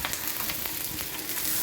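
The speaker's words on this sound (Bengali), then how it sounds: "কেটে রাখা আলুগুলো দিয়ে দিলাম, ঢ্যাঁড়সগুলোও দিয়ে দিলাম।" Okra and potatoes sizzle in a frying pan with a dense, steady crackle, close and continuous, with no talk.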